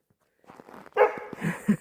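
A dog on a farm gives a short burst of sharp barks and yips after a quiet moment, close and fairly loud, with no talking over it.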